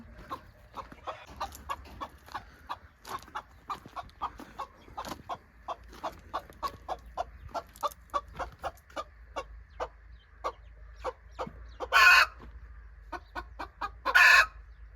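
A hen being settled onto chicken eggs for natural hatching clucks close by in a steady run of short repeated calls, with two louder squawks near the end and no talking.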